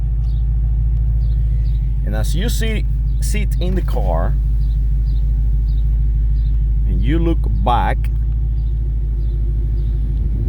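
A Dodge Challenger engine idles with a deep, steady rumble close by, while someone talks over it in short bursts.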